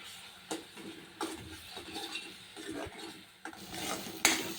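Masala with Kashmiri chili powder being stirred in hot oil in a pan for a brinjal curry: a quiet run of scraping spatula strokes and soft clinks at an uneven pace, with light frying underneath and no talk.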